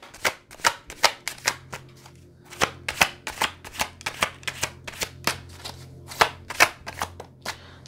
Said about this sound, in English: I'll pull some cards on this.